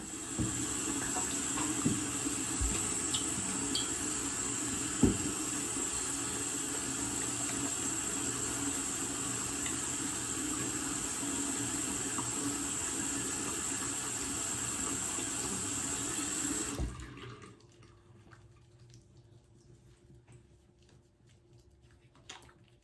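Tap water runs steadily from a faucet into a sink during a face-washing routine, a continuous close hiss with occasional splashes, then the flow stops abruptly, leaving quiet room tone.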